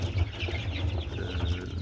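Young chickens cluck softly and repeatedly close by, a busy murmur of several birds with no voices.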